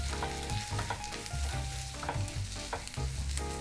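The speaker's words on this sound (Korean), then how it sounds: "이렇게 센 불에서 짧은 시간에 볶아내시면 돼요." Squid noodles stir-fried over high heat with a pistachio and spinach sauce, a dense close sizzle with scraping stirring strokes in an irregular rhythm, no voices.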